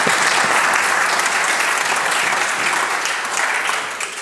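Sustained applause fills a legislature gallery as members welcome guests, a steady dense clapping that holds loud and even before easing slightly at the end.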